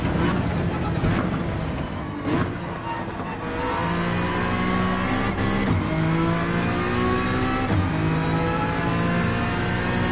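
A Red Bull race car engine in Gran Turismo 7 roars and revs continuously, pitch climbing and dropping through gear changes, loud and close throughout.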